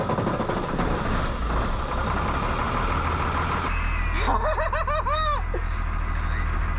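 A school bus engine runs just after starting, a loud steady rumble that settles into a lower idle partway through, with brief voice-like whoops heard over the idle.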